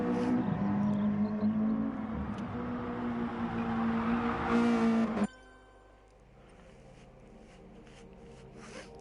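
Touring cars racing in a BTCC sim race, a loud droning engine note with rising and falling pitch for about five seconds, then cutting abruptly to a much quieter background hum.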